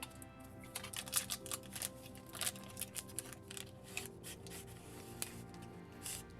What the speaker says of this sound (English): we're going to get a good rub of the X key